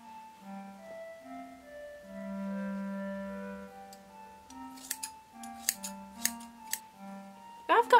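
Scissors trimming a synthetic wig styled for an Elastigirl costume: a few crisp, close snips at irregular intervals after a stretch of low vocal tones, ending with a sharper cluster of cuts.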